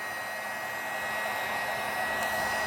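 A heat gun blows a steady, loud, continuous rush of hot air while shrinking a BOA hose clamp, without interruption or speech.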